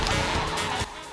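Karts driving and skidding in Mario Kart 8 on a 200cc course, a steady close engine roar with squealing tire slides that drops off sharply near the end.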